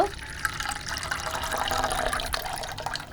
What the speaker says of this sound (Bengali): আরও একটু জল মিশিয়ে দেব।